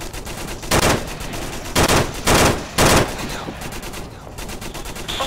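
Gunshots in the VR shooter Onward, four loud, distinct bursts spaced about a second apart over steady ambient noise, fairly close.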